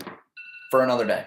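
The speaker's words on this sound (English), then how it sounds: "that was my alarm going off" An alarm clock goes off with a short electronic two-tone ring, brief and clear, directly followed by someone speaking.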